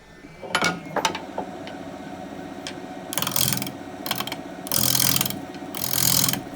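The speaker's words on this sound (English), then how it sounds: "With a nice freshly sharpened gouge, I start the shaping." Freshly sharpened gouge roughing out a wooden bowl on a lathe: a steady mechanical rumble of the spinning lathe, with recurring loud scraping, chattering cuts in bursts of about a second each, close up and without talk.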